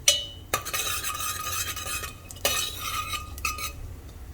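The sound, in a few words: roasting crushed cardamom and black peppercorns in a pan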